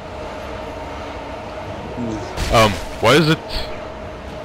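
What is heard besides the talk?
train moving in video game Dead Space 2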